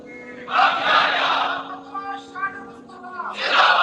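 A large crowd at a religious gathering marking Yaum-e-Badr shouts slogans in unison, loud bursts of collective voices rising and fading, with a sustained low hum underneath.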